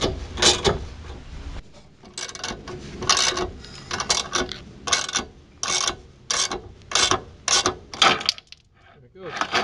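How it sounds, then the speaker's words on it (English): A hand ratchet clicks in repeated cranking strokes while pressing a rear tie rod bearing out of the hub of a Toyota MR2, with rhythmic bursts of ratcheting and pauses, close up. "you just keep cranking and cranking until the bearing comes out"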